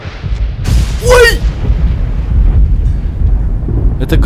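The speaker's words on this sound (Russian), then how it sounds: "Это гром, оказывается" A single thunder rumble in the video game Among the Sleep, a low rolling boom that swells and lingers beneath a brief swooping sound, fairly loud and close.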